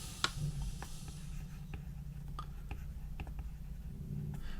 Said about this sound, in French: Je vais écrire ici.